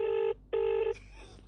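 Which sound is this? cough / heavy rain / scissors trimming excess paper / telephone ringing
telephone ringing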